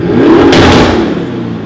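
A car's valved exhaust, opened up, lets out a loud, close engine rev that swells and then settles back into a rumbling drone, with no voices.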